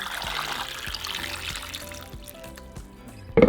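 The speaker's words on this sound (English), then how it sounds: "in a large pot we're going to place our 10 tomatoes, half of our onion, and our chile jalapeños. We're going to cover them with water." Water pours into a large pot holding ten tomatoes, half an onion and jalapeño chiles, a short steady trickling splash ending with a brief clunk.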